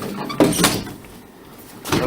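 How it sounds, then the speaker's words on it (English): Closet doors in a bedroom slide shut with a soft thud, followed by quiet rumbling and another brief knock near the end, close by and without voices. "When you close my closet doors"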